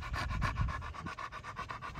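A clean-faced, heavy-boned dog with almond-shaped eyes pants rapidly and steadily up close, with about a dozen rhythmic breaths and no talking.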